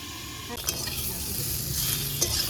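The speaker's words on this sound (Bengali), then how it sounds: "আলুগুলো খুব সুন্দর লাল লাল করে ভাজা হয়ে গেছে" Potatoes fry in a pan of oil until reddish-brown, giving a steady close sizzle with occasional scraping stirs, heard alone without talk.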